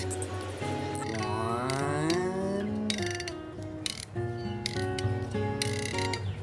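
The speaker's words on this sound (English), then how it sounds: "And then for this clipper, you tighten it all the way down." Tension being tightened on a cattle clipper: a long, steady mechanical ratcheting and whirring with rising, gliding tones, broken by several short clicks and knocks, close up with no talk.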